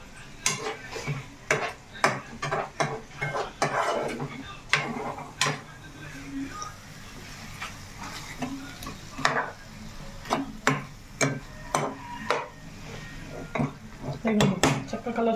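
Chicken joint pieces fry and are stirred in a pan, with repeated clinks and scrapes of a utensil against the metal over a low sizzle, close and moderately loud in an irregular rhythm, with occasional speech.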